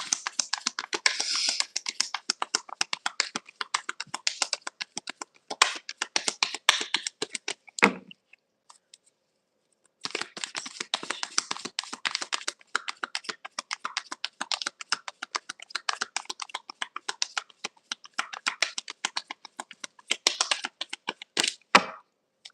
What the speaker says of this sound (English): All right, I'm gonna do 3 more shuffles,